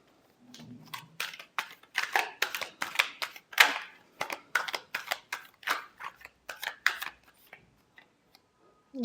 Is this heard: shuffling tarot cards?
yes